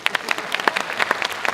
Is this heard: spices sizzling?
no